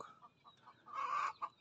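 Chickens cluck near a hut in a quiet mountain setting: soft, scattered clucks lead to a louder cackling burst close by, followed by a few more short clucks, with faint birdsong in the background.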